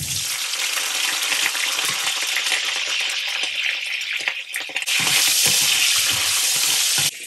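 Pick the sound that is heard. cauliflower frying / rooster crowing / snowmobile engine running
cauliflower frying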